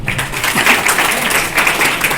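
An audience at an entrepreneurship club meeting in Gorakhpur claps for Priya Singh, giving a short, steady burst of dense applause that fills the whole moment.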